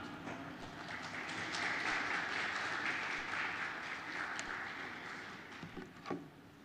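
An audience at a languages summit at Six Nations of the Grand River applauds a speaker, a sustained wash of clapping that swells early, then slowly thins out into scattered claps near the end.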